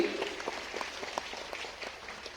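A hall audience at a religious gathering claps in sustained, dense applause, many hands patting at a moderate level with a slight swell at the start.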